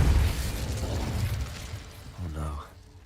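A fire spell is cast in Hogwarts Legacy, a loud low rumbling whoosh and burst that holds for a couple of seconds before tapering off, followed by a brief bit of talk.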